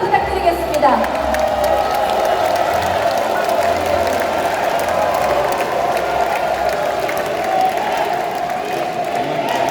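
Applause and crowd noise at a Democratic Party national convention in Jeonbuk, with candidate Lim Mi-ae being introduced, a steady broad wash of clapping filling the hall under an amplified voice.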